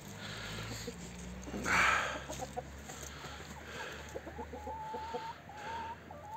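Hens cluck softly near a newly built henhouse filled with straw, short scattered clucks over a quiet rural background, with one brief louder rustling burst early on.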